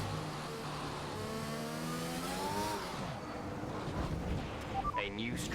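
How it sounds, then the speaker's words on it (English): A race car at Imola in a racing video game, floored in third gear with energy recovery deployed on cold tyres, revs its engine upward in rising whine while someone talks over it. "I floored it in, I think it was like 3rd gear, ERS on, and cold tyres"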